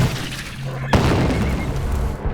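A cannon fires in a war-film battle scene: one sudden heavy boom with a crackling blast tail, surrounded by dense, rumbling background noise.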